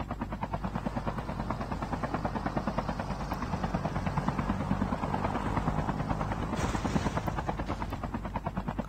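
A helicopter in a battle royale game thumps with rapid, steady rotor chop and a loud engine drone, close and constant throughout.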